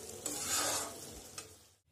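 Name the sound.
potatoes frying with salt, turmeric, chilli and cumin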